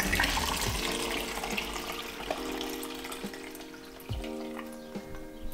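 C41 colour film developer being poured through a funnel into a developing tank, a trickling liquid pour with small clinks and knocks, close and quiet, no speech.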